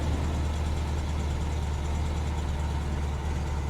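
A Pontiac Solstice engine idles steadily nearby, a constant low rumble with an even hum and no talking.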